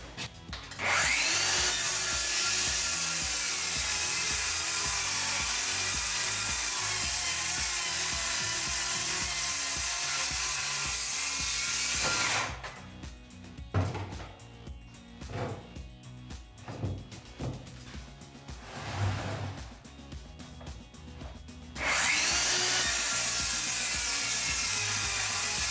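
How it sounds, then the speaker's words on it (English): A table saw rips a sheet of plywood guided by a Kreg jig. A loud, close whine and cutting roar runs for about twelve seconds, then scattered knocks and handling noises follow before the saw's roar returns near the end. "I hate ripping plywood on a table saw by myself"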